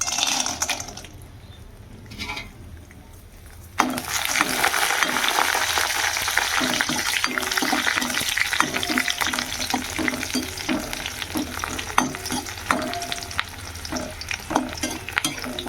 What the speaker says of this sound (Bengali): কটা পাঁপড় ভাজার ইচ্ছা আছে, কটা পাঁপড় ভাজা করছি